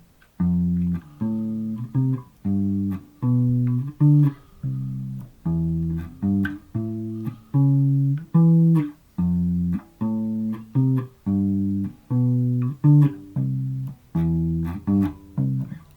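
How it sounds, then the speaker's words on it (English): A bass guitar plays the intro of a song alone, a low plucked line of steady repeated notes in a bouncy rhythm with brief gaps between phrases, clear and close. "So all together that whole intro should sound like this."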